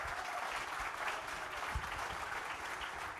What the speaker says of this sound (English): Let's have a big round of applause for every single one of us.